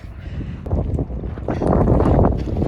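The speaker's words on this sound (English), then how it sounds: "You can hear the wind just whipping." Strong wind gusting across a microphone in the mountains near Estes Park, Colorado, a rough low roar that swells and buffets, growing louder toward the end.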